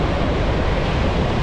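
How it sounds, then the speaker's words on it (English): Strong wind and surging ocean waves on a beach in Da Nang, Vietnam in the evening, a steady loud broadband roar of surf and wind buffeting the microphone with no talk. "The wind is kind of strong."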